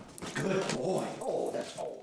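A trained bedbug detection dog whimpering, a short series of close, thin whines and yips rising and falling over about two seconds, with a voice talking underneath.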